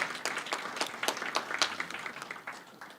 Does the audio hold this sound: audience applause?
yes